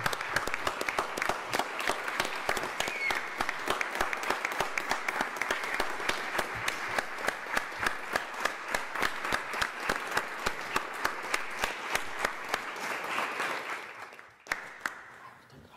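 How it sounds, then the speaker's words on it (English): A council meeting audience applauds Mike, with steady, dense clapping from a roomful of people held at an even level for several seconds, then fading out near the end. "I think Mike deserves a round of applause."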